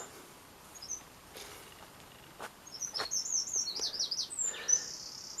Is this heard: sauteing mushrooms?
no